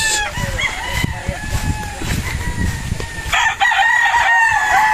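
Battle stag roosters crow repeatedly and loudly nearby, overlapping calls with clucking fowl, over a faint background voice.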